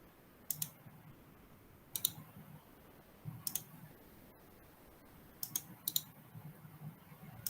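Sharp mouse clicks from a computer running GIS software, landing in small clusters of one or two at a time with quiet gaps between, faint and close against a low background hum.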